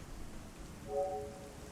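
Steady rain ambience on the Garry's Mod map GM_Construct_Rainy, a soft continuous hiss of falling rain with a brief faint tonal swell in the middle, no voices.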